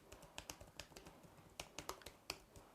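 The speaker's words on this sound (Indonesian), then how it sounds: "Kalau ini dari Logitech Keys to Go" Typing on a Logitech Keys-To-Go 2 compact keyboard: a quiet run of soft, thin keystroke taps in an uneven rhythm, close up and faint, with no voices.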